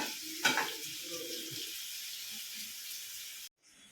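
Paneer curry ingredients sizzle and hiss steadily in a hot pan, with a brief clatter of stirring near the start before the sound cuts off abruptly.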